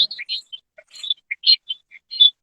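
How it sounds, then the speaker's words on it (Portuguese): A small bird loose indoors chirps in a quick series of bright, high tweets separated by short silences, fairly close and clear. "Não tem um passarinho solto aí na sala?"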